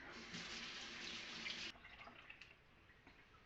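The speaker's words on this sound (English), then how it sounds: "Wash my hands." Running tap water over hands at a kitchen sink while making sourdough bread, a faint steady splash that cuts off abruptly midway, leaving quiet drips and small sounds.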